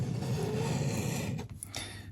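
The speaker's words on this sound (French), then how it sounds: "Moi, j'entends ronfler, c'est trop drôle." Someone snores alone, one long rasping breath filling most of the two seconds and then tailing off, close and fairly loud.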